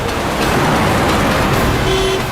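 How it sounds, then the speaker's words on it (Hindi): A car horn gives a short, steady toot near the end of a loud, dense wash of road traffic noise. "अरे क्यों हॉर्न मार रहा है?"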